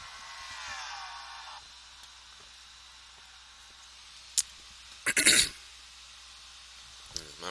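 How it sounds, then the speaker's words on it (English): A single short cough around the middle, sharp and close, set against a steady sizzling background of an ARCA stock car race broadcast. "My apologies for the cough here."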